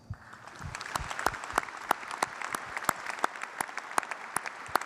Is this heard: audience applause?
yes